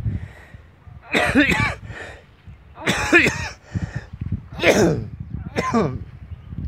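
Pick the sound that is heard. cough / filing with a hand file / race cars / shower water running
cough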